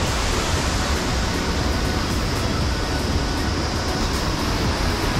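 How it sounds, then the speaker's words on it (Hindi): Steady, dense rush of a forest waterfall at Maldevta, constant broadband roar with no breaks or voices, close and loud throughout. "वाटरफॉल आ गया एक. This is the waterfall."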